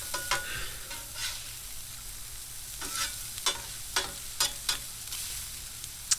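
Sausage and bacon sizzling on a Blackstone 22-inch griddle, a steady close hiss of frying with frequent sharp scraping and stirring clicks from a spatula.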